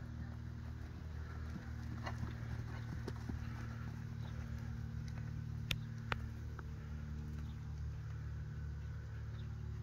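Horse hoofbeats clip-clop steadily through a 20-meter left canter circle in a dressage test, with a low steady background hum beneath the faint repeated footfalls.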